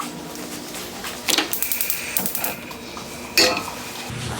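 Frozen blueberries stirred in a pot over medium heat for a bourbon blueberry cream cheese, giving irregular clinks and scrapes of a utensil against the pot, with a louder clatter toward the end, no talking.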